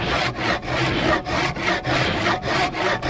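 A hand saw cuts through wood while a traditional sawbench is being built, with steady back-and-forth rasping strokes in an even rhythm, about eight strokes, loud and close with no talk.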